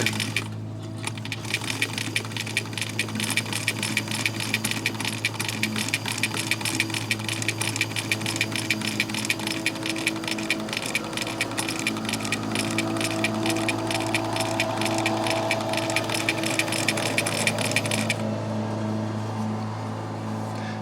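A sewing machine with a hemming foot runs steadily and loudly, stitching fabric through a curve in a dense, rapid mechanical chatter that continues for about eighteen seconds before stopping, leaving a low hum.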